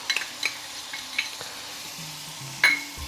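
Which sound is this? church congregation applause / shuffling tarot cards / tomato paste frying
tomato paste frying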